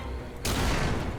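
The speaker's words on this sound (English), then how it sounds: "the bad guys like exploding when you hit them" Enemies bursting apart under fire in the retro Lovecraftian shooter Forgive Me Father 2, a loud abrupt blast that erupts partway in and rumbles on to the end over a quieter game background.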